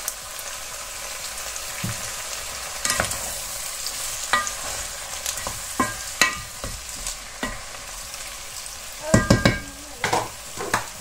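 Onions and tomatoes fry and sizzle in a pan, stirred with a utensil in a steady run of scraping strokes and louder clanks, heaviest near the end, with no talk.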